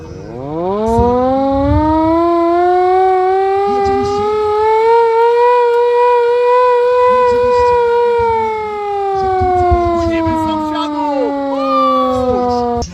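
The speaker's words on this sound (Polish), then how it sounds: "Także widzicie Państwo, również można pokręcić syreną." A hand-cranked fire brigade siren at an end-of-summer outdoor picnic winds up into a loud rising howl, holds a long steady wail, then slowly falls as the crank eases, with crowd murmur beneath.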